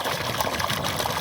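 A 3000W BLDC borewell motor on an 800-foot bore in Makkanur village, Dharmapuri, pushing water through a 1.25-inch pipe, heard as a loud, continuous gushing rush with a mechanical whir underneath.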